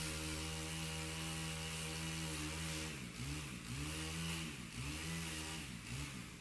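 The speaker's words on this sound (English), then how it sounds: "Debris disappears almost instantly under the mulcher" A 350 horsepower forestry mulcher churns through forest debris with a loud, steady engine drone that dips and surges repeatedly as the load changes.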